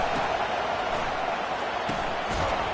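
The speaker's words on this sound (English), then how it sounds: "Listen to this crowd just shaking the girders of this place trying to help their defense" Loud, steady roar of a football stadium crowd in Texas cheering to rally the home defense, a dense continuous wall of noise with a few sharper shouts poking through.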